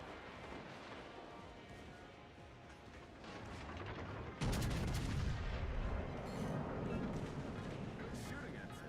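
Gunfire in a video game, a dense rumbling barrage that swells into a loud close blast midway and keeps roaring after, with voices talking faintly beneath.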